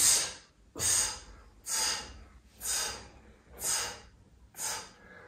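Steady rhythmic breathing during a stretching exercise, six strong, airy exhales about a second apart, close and fairly loud with short gaps between, no talking.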